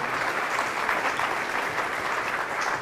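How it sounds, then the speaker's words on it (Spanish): Church audience at a talk on spiritual gifts breaking into strong, dense applause, a continuous loud roar of many hands clapping with no pauses. "fuerte el aplauso"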